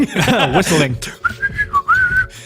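A person whistles a short wavering tune after a brief burst of a voice making sounds, the whistle clear and close.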